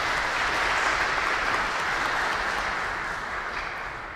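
Sustained applause from a conference audience welcoming the arriving panelist Lauri Love, a dense steady clapping that fills the room throughout and tapers slightly toward the end, with no voices over it.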